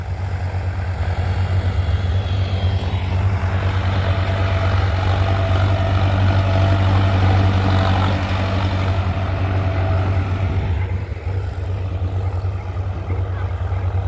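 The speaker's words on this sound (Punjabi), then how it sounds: "ਚੱਲਦੇ ਨੇ ਤਿੰਨ ਟਰੈਕਟਰ ਖੇਤ 'ਚ ਕੰਮ ਪੂਰੇ ਜ਼ੋਰਾਂ ਤੇ ਆ" Three tractors ploughing a field, heavy diesel engines rumbling and droning continuously, a low throbbing hum that swells in the middle and eases slightly toward the end, with no talk.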